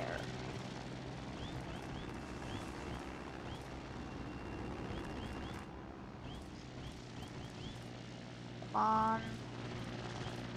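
A biplane engine drones steadily as the plane comes in to land in the Trailmakers building game, a continuous even hum throughout, with a short voice near the end.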